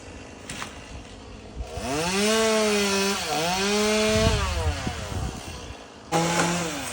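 A chainsaw revs up and bites into a pecan tree, its whine dipping and rising under load for several seconds before easing off and revving again.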